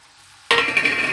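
Boiled potatoes added to fried masala in a pan for a spicy Indian potato curry: sudden loud sizzling and scraping begins after a moment of quiet, then continues steadily as they are stirred and broken up.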